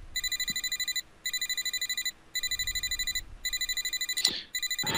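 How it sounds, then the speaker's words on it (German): Telephone ringing in a German-language visual novel murder-mystery game: bright electronic rings repeat in bursts of trilling pulses, each burst about a second long with short gaps. The ringing is loud and close, and a brief click sounds near the end. "Mein Telefon?"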